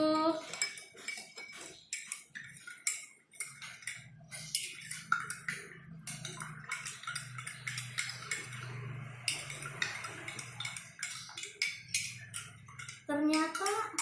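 A metal spoon clinks and taps repeatedly against a glass of clear water as salt is stirred in, rapid bright rhythmic strikes up close at moderate volume, with a faint low hum underneath.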